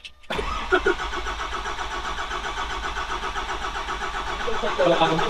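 A car engine is cranked over without catching, a continuous loud mechanical churning that runs steadily for several seconds and swells slightly near the end, close up with no voices.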